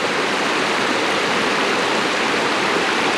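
A river near Multnomah Falls in Oregon rushes steadily past, a loud, continuous broadband roar of flowing water filling the whole stretch with no pauses and no voices.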